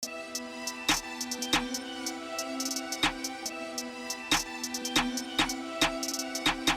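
A drill beat with rapid, rolling hi-hats over a steady melodic loop, the sharp hat ticks and periodic percussive hits falling in a tight repeating rhythm, played alone without any voices.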